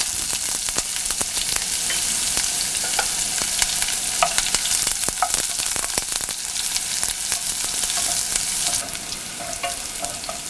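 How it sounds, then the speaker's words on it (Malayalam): Chopped onions sautéing in hot oil after mustard seeds have spluttered, for a Kerala-style coconut chutney: a steady, continuous sizzle and frying crackle throughout, with occasional sharper pops and stirring scrapes, close and fairly loud, with no talking. "കടുക് പൊട്ടിക്കഴിയുമ്പോൾ നമ്മൾ കട്ട് ചെയ്ത് വെച്ചിരിക്കുന്ന ഉള്ളിയിട്ട് വഴറ്റുക."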